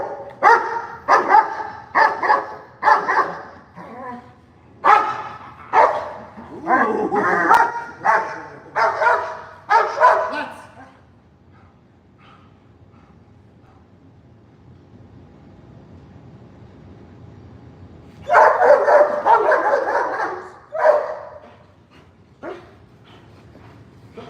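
Dogs in a training session bark in loud close bursts, a rapid run of repeated barks, then a quiet gap with faint background, then another burst of barking near the end.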